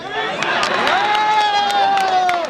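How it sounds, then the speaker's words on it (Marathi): A crowd at a village kabaddi match cheers and shouts for a player, a dense continuous roar with whistles or shrill calls rising over it and some claps mixed in. "जोरदार टाळ्या होत्या मित्रांनो या गुणवंत खेळाडूसाठी"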